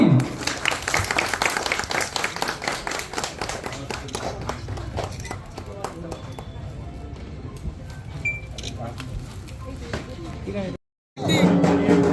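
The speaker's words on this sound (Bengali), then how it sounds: "সবাই একটু জোরে হাততালি" An audience claps loudly at a Durga Puja inauguration, a dense, sustained round of applause close by that thins toward the end, with voices mixed in.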